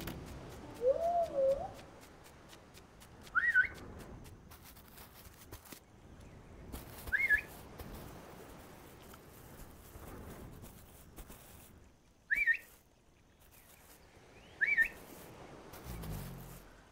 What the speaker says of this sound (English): let's try this whistle out